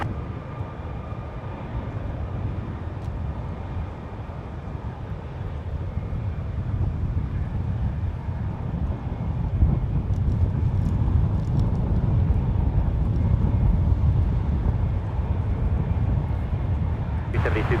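An airliner on final approach to land at San Francisco International Airport, a loud, steady, distant rumble that swells gradually and sits under background voices.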